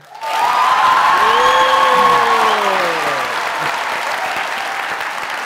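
On a Pakistani comedy talk show, the studio audience breaks into loud, sustained applause that rises quickly and holds steady, with a few faint voices and whoops mixed into the clapping.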